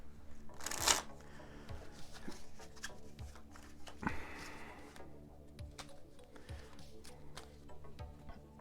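Soft riffling and flapping of playing cards being shuffled up close, a quick burst followed by quieter repeated shuffles and taps.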